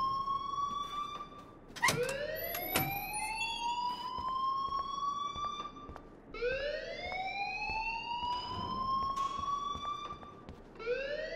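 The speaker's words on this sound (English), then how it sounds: "please turn off that alarm since that's your job" A rising, wailing electronic alarm sounds in the video game Life Is Strange Remastered, sweeping upward in long repeated cycles with sharp clicks and beeps between them, loud and alone.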